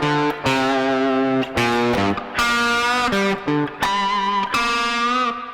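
Distorted electric guitar plays a slow version of a rock solo lick as a run of sustained, overdriven notes broken by short gaps. It is loud and close, with no voices.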